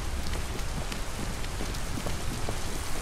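Steady rain falling outdoors in the video game Detroit: Become Human, a continuous dense hiss of drops on surfaces with no voices, even and unbroken throughout.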